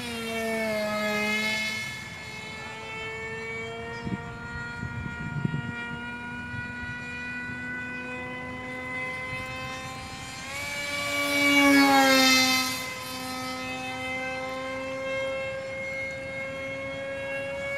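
Hobbyking MiG-29 foam RC jet making a flyby, a steady high motor whine that rises and swells as it passes close, then drops in pitch and fades away.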